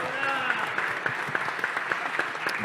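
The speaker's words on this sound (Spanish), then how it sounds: "Un aplauso para ella, por favor" A seated audience at an ideas-festival sustainability panel gives a brisk round of applause, many hands clapping at a steady level with a faint voice or tone lingering underneath.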